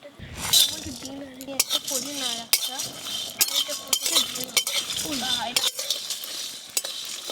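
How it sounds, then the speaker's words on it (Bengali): Cloves, cinnamon, nutmeg and mace dry-roasted in an oil-free wok rattle and clink under a spoon in irregular bursts, with people talking over the stirring. "এই সব মশলাগুলো শুকনো কড়াতে খুব ভালো করে ভেজে নেব, তেল দিয়ে কিন্তু ভাজবো না।"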